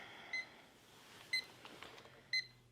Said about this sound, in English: I wake up to my alarm clock